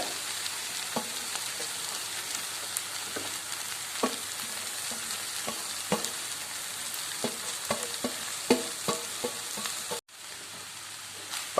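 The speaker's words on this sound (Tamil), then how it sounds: "இந்த ஸ்டேஜில் நம்ம வேக வச்சுருந்தா நூடுல்ஸு அதை அப்படியே போட்டுக்கோங்க" Boiled noodles stir-fried with vegetables and sauce in a pan: a steady soft sizzle runs throughout, broken by scattered clinks and scrapes of the spatula tossing the food, close and without talk.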